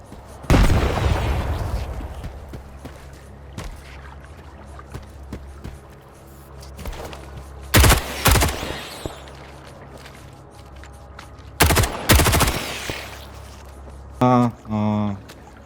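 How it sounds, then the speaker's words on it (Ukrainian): A grenade goes off in S.T.A.L.K.E.R. 2: Heart of Chornobyl with a heavy boom, followed later by loud sharp bursts of pistol fire close by, against a low ambient background. "кинути в них гранату і після цього розібратися вже пістолетом з тими"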